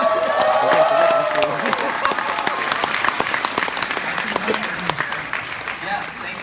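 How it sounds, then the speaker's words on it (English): Audience applause in a room, a dense burst of clapping with some cheering and voices mixed in that gradually thins out over several seconds. "give them a round of applause"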